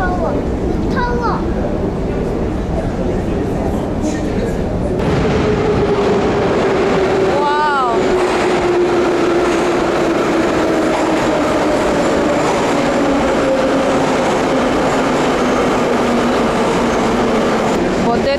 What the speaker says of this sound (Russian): Мы спускаемся в метро.